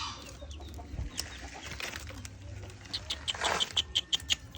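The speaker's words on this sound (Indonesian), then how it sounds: "ini dia ayam hutan hijaunya yang posisi sedang ngorok" A green junglefowl with a wheezing, rattling breath, heard up close as faint raspy breaths followed by a run of sharp clucking or pecking clicks toward the end.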